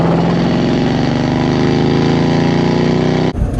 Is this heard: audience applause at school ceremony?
no